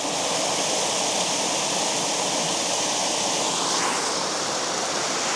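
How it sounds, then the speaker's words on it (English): Water rushes steadily at a deep, cold swimming hole outdoors, a constant broadband hiss of flowing current with no pauses and no voices. "I just stumbled upon this awesome swimming hole."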